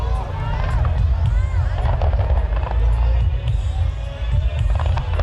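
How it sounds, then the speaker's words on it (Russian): Fireworks show by a team from the Philippines at a beach in Pattaya, Thailand: a steady, dense rumble of bursts and crackles over a busy crowd, with chatter and voices throughout. "Шоу фейерверков от команды из Филиппин."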